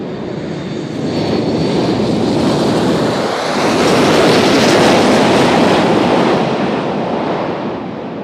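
A United airliner arriving from Dulles at Nashville International Airport, its engines roaring loudly and steadily, close by, swelling toward the middle of the pass before easing off slightly.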